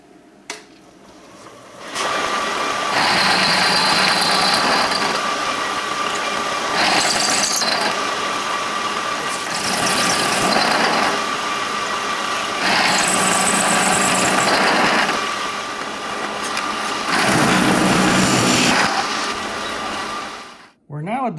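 A machine cutting a half-inch slot and pulley grooves into a sailboat backstay tensioner part makes a loud, harsh grinding roar in several long passes separated by brief lulls, starting and stopping abruptly.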